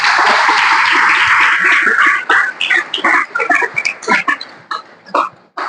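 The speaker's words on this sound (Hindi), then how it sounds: "क्यों ना प्रभु के लिए ताली बजाए।" Loud, dense clapping from a church congregation fills the first couple of seconds, then breaks into scattered, uneven claps that taper off.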